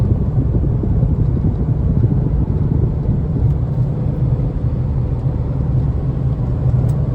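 A 2012 Dodge Challenger, converted from a 5.7 to a 6.2 engine, idling with a loud, deep, steady rumble heard up close, with no voices over it.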